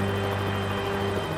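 A helicopter hovers close above a live power line while a lineman disconnects, its steady rotor and engine drone loud and continuous throughout, with a sustained low hum and no speech.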